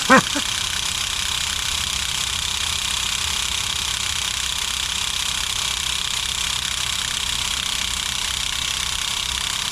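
A nitro-fueled RC car engine idles steadily with a constant buzzy hum, moderately loud and unbroken after a brief knock at the start.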